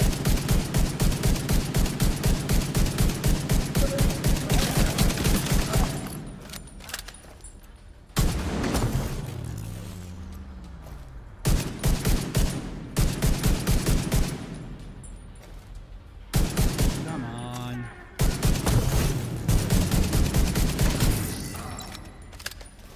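Bursts of rapid gunfire in a video game, dense fusillades broken by short pauses and explosive booms, loud and up close, with no talking over it.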